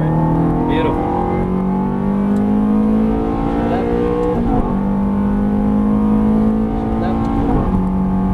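A Ferrari F430 accelerating out of a corner on a track, its engine note climbing steadily through the revs with a couple of shifts; loud and close throughout.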